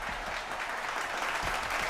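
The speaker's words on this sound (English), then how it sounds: "Round of applause for that." A round of applause from a small audience, steady dense clapping for the full two seconds with no voices over it.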